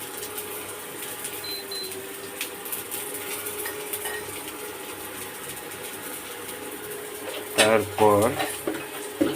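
Prawns and coconut stirred in a pan with a steady sizzling, scraping texture throughout, and a voice speaking briefly over the louder stirring near the end.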